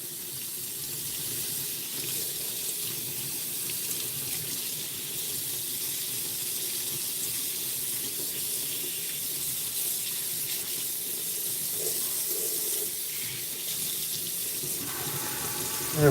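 Hot water runs from a kitchen tap over raw chicken to thaw it, a constant hissing splash that continues steadily throughout, with a few small clinks near the end.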